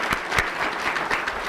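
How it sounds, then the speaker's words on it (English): An audience at a press conference held at Greektown Casino claps, a brief, even burst of dense applause from a crowd. "a round of applause"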